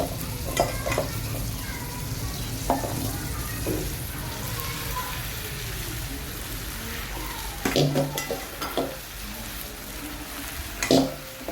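Soaked poha and other ingredients are stirred and mixed in a pan, with a soft sizzle under scraping strokes and a few sharper clinks of a spoon against metal, close by and without speech.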